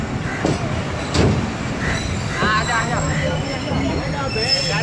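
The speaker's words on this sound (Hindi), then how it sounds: "ठीक 8:40 पर हमारी ट्रेन लग रही है कोची जंक्शन रेलवे स्टेशन के प्लेटफॉर्म नंबर 2 पर" Allama Iqbal Express pulling into platform 2 at Kochi Junction railway station, with rumbling carriages, squealing wheels and a few clanks close by, under people talking on board.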